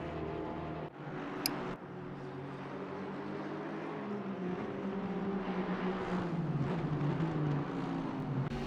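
A BMW race car's onboard engine drones in a sim-racing endurance event at Imola. The quiet, steady hum rises and falls in pitch as the car runs, with no talk over it.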